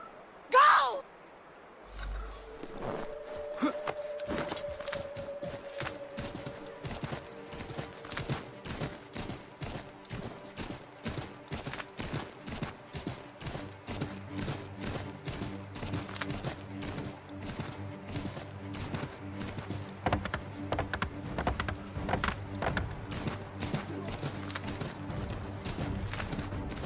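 Horse hooves clip-clop steadily in Assassin's Creed 3, a dense rhythmic patter over forest ambience and a low droning music bed, with a voice speaking near the start.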